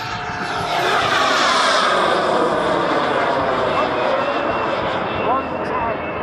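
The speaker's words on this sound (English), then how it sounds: "The only time you will see these jet aircraft doing any kind of full throttle is on takeoff or on any kind of a climb." Military jet aircraft roaring past at an airshow, a loud, continuous engine roar that rises and sweeps across, with someone talking over it.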